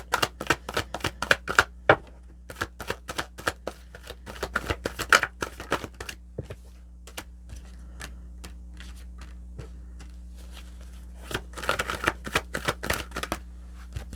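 Tarot cards shuffled and drawn by hand, a quick run of dry flicking riffles and slaps in bursts, pausing mid-clip before another dense flurry near the end, close and fairly loud over a faint steady hum.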